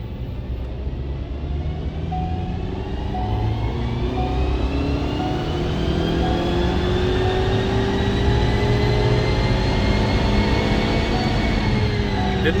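A tuned 2022 Ford Maverick pickup on a chassis dyno, engine note climbing in a long, steady pull as revs rise under load, loud and continuous with no speech.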